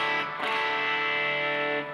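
Electric guitar run through a Timmy overdrive pedal with a tranny preamp engaged at the front end, playing a sustained, lightly driven chord that rings steadily for two seconds, close and fairly loud, with no talking.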